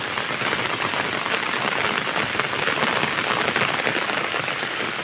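Steady rain falls in a village at night, a dense, even hiss of drops striking surfaces that holds constant and fairly loud with no voices or breaks.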